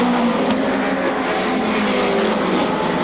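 Midget race cars at Seekonk Speedway roar continuously past, a loud sustained engine drone with a rising and falling pitch that holds steady for the full three seconds.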